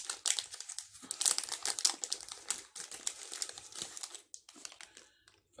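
A plastic snack wrapper is torn open and crinkled by hand, a dense, close run of crackling bursts that thins out toward the end, with no talking over it.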